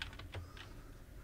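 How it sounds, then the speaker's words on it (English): Keyboard typing while writing HTML code for a webpage, a few faint, light keystrokes early on and then quiet room tone, with no talking. "I'm going to type style equals double quotations"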